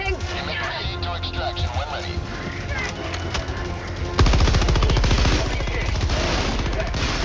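Automatic gunfire from the video game Helldivers 2 during a fight against terminators, rapid dense bursts that grow louder and more continuous partway through, with a voice talking over the shooting.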